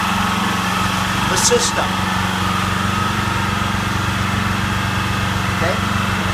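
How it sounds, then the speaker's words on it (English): A portable generator engine runs steadily, a loud continuous drone with a fixed low hum that persists throughout, while someone talks over it. "I'll plug this into our generator, which is now powering"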